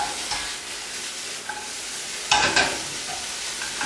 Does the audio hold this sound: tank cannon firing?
no